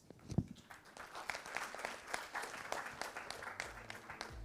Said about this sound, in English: Please join me in giving a big round of applause to our panelists